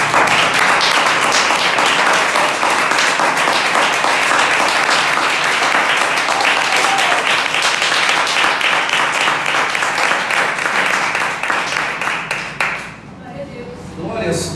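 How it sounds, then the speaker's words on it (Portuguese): A church congregation applauds in dense, sustained clapping that fills the room near and loud for about thirteen seconds, then quickly tapers off into quiet. "Vamos louvar a Deus com as palmas mais uma vez."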